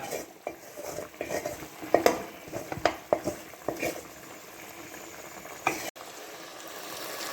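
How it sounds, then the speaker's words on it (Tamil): Brinjal with ginger garlic paste frying in a pan for a quail fry, quiet sizzling under repeated clinks and scrapes of a spatula against the metal pan. "இதில் ஆட் பண்ணிக்கிங்க அந்த கத்திரிக்காய், இஞ்சி பூண்டு இதெல்லாம் சேர்த்து ஃப்ரை பண்ணுங்க"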